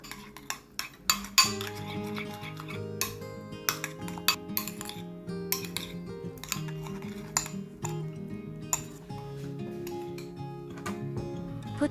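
Meat being mixed with herbs in a bowl, with repeated clinks and scrapes of a utensil against the dish and soft wet stirring throughout, close and fairly busy with no voices.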